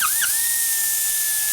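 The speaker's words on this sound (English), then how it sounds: "That's a carbide burr." High-pitched whine of a carbide burr grinding 1979 Harley-Davidson Shovelhead 80ci motor parts, loud and close, pitch dipping briefly under load at the start before holding steady.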